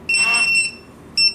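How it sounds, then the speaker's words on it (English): A TD175 pager system sounds a loud, close electronic beep: one longer high-pitched tone, then a short gap and a second brief beep, with no other sound around it. "Yes, just the beep, no light and vibration."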